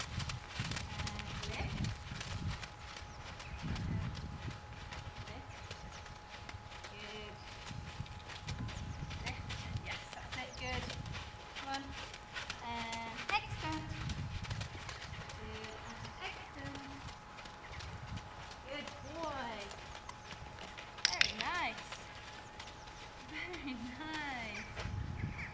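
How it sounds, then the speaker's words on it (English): A horse at liberty moves from a collected trot into an extended trot, its hooves giving a steady, rhythmic clip-clop throughout, with a person talking over the hoofbeats. "Here we're beginning to switch from a more collected trot to a more extended trot."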